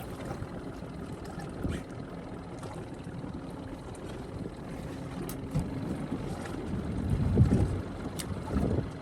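A fishing boat motor runs on a lake trout outing, a steady low rumble mixed with wind buffeting and water noise throughout, rising slightly toward the end.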